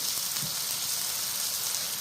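Three chilies sauté in a pan for butter chicken, giving a soft, steady hiss of frying throughout, faint and without pauses.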